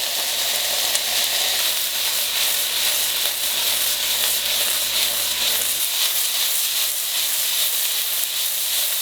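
Food sizzling steadily as it sautés in a pan with basil, salt, pepper and fresh minced garlic, a loud, continuous frying hiss that runs unbroken and close throughout.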